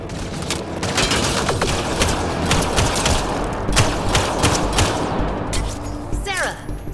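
Rapid gunfire from a sci-fi shooter game, Mass Effect Andromeda, crackles in dense repeated bursts over a steady battle din, with game voices calling out during the firefight.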